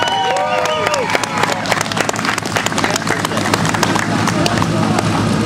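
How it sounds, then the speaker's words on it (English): An audience claps and cheers steadily throughout, dense applause with scattered whoops and voices mixed in. "Let's give them a round of applause"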